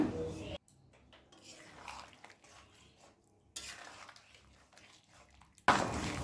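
Chicken with turmeric and salt stirred in a pan, soft utensil scrapes and clinks against the metal, with a couple of louder bursts at the start and end and quiet stirring between.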